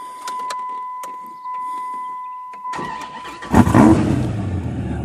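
A supercharged Dodge Viper SRT10 with an 8.3-litre V10 cranks after a dashboard chime, catches with a loud bark and settles into a rough, rumbling idle, close up with no talk.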